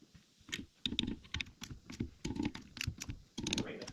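A Mac torque wrench set to 26 foot-pounds torques engine bolts, producing a faint run of quick, rhythmic ratcheting clicks in short bursts, close by and quiet.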